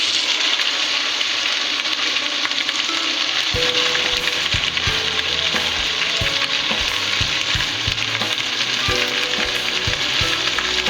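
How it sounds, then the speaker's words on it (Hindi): Loud, steady sizzling of chicken frying in a pan with green chilies, with occasional scraping and stirring sounds, no voices. "अब इसके मैं चिकन ऐड कर रही हूँ।"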